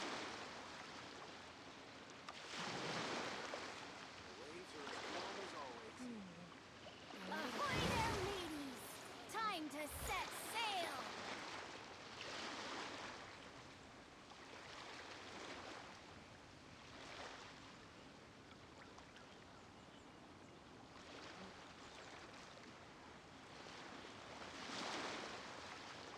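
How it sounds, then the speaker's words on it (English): Ocean waves in the game Genshin Impact, a soft airy wash with several swells rising and falling, one louder surge near the middle, a voice talking over it at times. "Waves are as calm as always."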